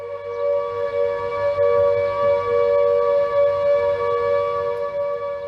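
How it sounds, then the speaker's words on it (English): An air raid all-clear siren during the Blitz holds one steady, high sustained wail with strong harmonic tones and no rise or fall, loud and continuous for the whole stretch with no talking. "When the all clear siren sounded,"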